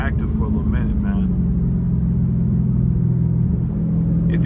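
A straight-piped Dodge Scat Pack cruises on a highway with a loud, close, steady low exhaust drone, and someone talks briefly over it at the start.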